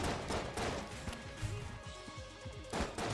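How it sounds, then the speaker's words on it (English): Explosions and gunfire in the video game Enter the Gungeon come as faint, scattered bangs and thuds in quick clusters over a low rumbling bed of game sound. "It's also this very pretty explosions when there's a bunch of them right next to each other."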